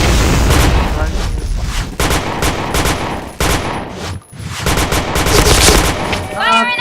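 Rapid bursts of automatic gunfire in the online shooter PointBlank, loud and near, firing in repeated volleys with short gaps, while players talk over the shooting.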